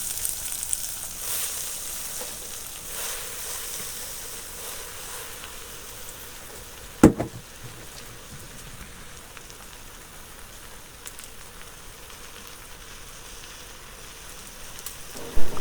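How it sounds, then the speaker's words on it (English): Pigweed greens frying in a sufuria give a steady, broadband sizzle like rain on a surface, with one sharp clatter midway and another bump at the end. "Another sufuria, let's fry our greens."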